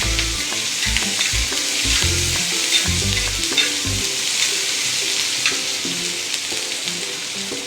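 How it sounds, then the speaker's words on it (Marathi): Coarse ginger, garlic and green chili paste sautéing with browned onion in a hot pan for egg bhurji, a loud continuous sizzle with rhythmic spatula scrapes and stirring in the first half. "त्यात आपण ही भरड घालणार आहोत, अद्रक लसूण मिरचीची। ती पण चांगली परतून घ्यायची।"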